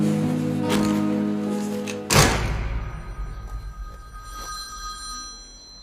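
A telephone bell rings in a short trilling burst, then stops as a thump and handling noise follow, with fainter rattles fading out afterward.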